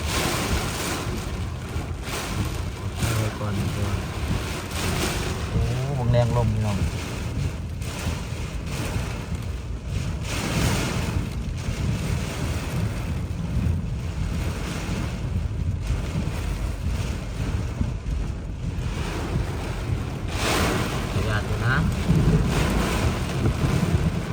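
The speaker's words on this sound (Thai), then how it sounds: "แรงลมครับ" Strong wind roars and buffets the microphone continuously, with a rushing, surf-like noise throughout and no voices.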